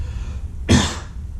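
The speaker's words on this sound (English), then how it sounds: "I got a cough right here" A single sharp cough rings out once, close and fairly loud, over a low steady background hum.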